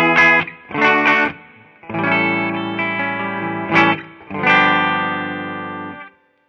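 A Gibson Firebird Zero electric guitar played through a Laney amp on its clean pickup sound with the Tube Screamer off, loud strummed chords ringing out in several separate bursts and fading after each, with no voices.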